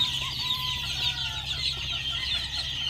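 Chicks in an improvised tent brooder cluck and peep continuously, a close chorus of small birds alongside a steady low background hum.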